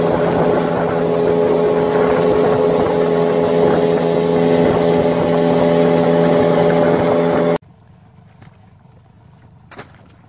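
A motorboat engine drones steadily and loudly across the water at a freshwater eel fishing spot, then cuts off abruptly, leaving quiet outdoor background with a couple of small knocks.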